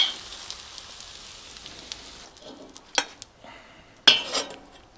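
Fried mushrooms lifted out of a pan into a bowl, with soft sizzling fading under a few sharp utensil clinks and scrapes against metal and crockery, close by and alone.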